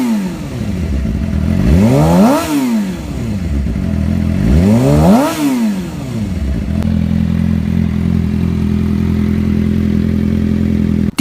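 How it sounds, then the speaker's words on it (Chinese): Suzuki GSX-R600 sportbike with titanium valves and a forged crankshaft revs hard twice, each sweep climbing and falling, then settles into a steady, loud idle close by. "谢谢大家听一下这代发动机声浪。"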